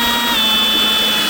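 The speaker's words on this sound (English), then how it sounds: "if you take your drill bit, you go right about there" A drill bores a tap hole into a sugar maple tree outdoors with a steady, loud, close whine and grinding hiss that runs unbroken throughout, without any talk.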